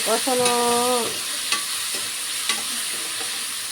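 Spices and a little chili stir-fry in hot oil with a constant loud sizzle, broken by occasional clicks of a utensil against the pan. A short tonal squeal sounds near the start.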